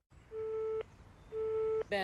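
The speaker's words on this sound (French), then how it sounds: "C'est le téléphone fixe qui répond aux abonnés absents" Landline telephone signal for an unreachable number: two long steady electronic tones, each lasting about half a second with a pause between, followed by a brief burst of higher tones at the end, heard over faint line hiss.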